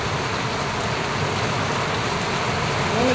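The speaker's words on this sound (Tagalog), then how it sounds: "Lakas ng ulan." Heavy rain pours during a thunderstorm, a dense, loud, unbroken roar of drops hitting surfaces close by that holds steady the whole time.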